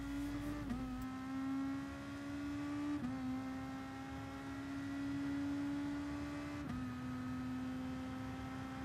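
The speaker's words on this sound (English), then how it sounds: "just barely start to accelerate, and you can then go on full throttle when the curb on the left ends" Race car engine in Gran Turismo Sport at Suzuka Circuit holding a steady high drone, briefly dipping and climbing again on the throttle twice, loud and continuous with no talk.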